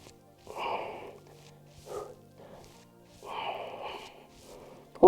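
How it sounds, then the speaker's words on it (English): Heavy effortful breathing during an ab workout comes in paired huffs, two rhythmic bursts of exhale and inhale, close to the mic, ending with a sharp sound. "Breathing as we're working."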